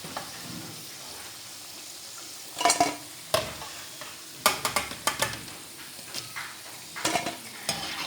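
Mixed vegetable pakoras fry quietly in oil under a soft background hiss, broken by scattered sharp clinks and taps of a utensil against the pan. Nobody speaks.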